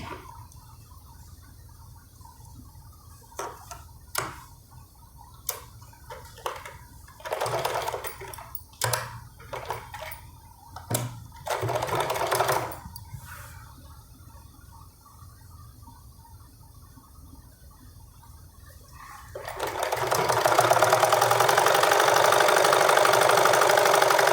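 A domestic sewing machine stitches a seam along marked pleats on a Punjabi suit, running in short bursts and a longer steady whir close by, with a louder rushing run near the end and no speech.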